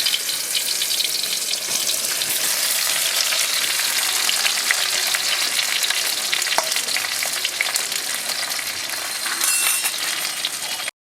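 Green chillies and mixed vegetables fry in a pan, giving a loud, continuous close-up sizzle with a faint watery hiss throughout and no talking.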